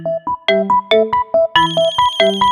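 A mobile phone ringtone plays a loud, bright electronic melody of repeating short tones in a steady rhythm, close and clear, with no voices over it.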